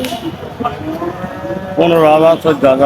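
A Sahiwal breed cow lows loudly and close at a busy cattle market in Chougachha, a drawn-out moo rising over crowd noise and people talking.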